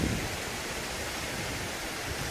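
A waterfall pouring down beside fresh snow in a nature park near Gulaba and Rohtang, heard as a steady, dense rush of falling water that stays even and unbroken throughout, close by with no voices.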